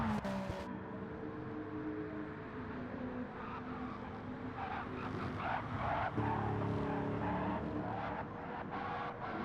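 A race car in a GTO time trial racing game spinning out going into the carousel, a continuous engine drone with rising and falling revs and bursts of tire scrub and squeal, heard fairly faintly.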